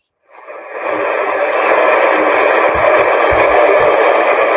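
Shortwave radio broadcast of Radio New Zealand International in English, fading in after a brief silence and then holding steady and loud, with the programme's audio buried under constant hissing static noise.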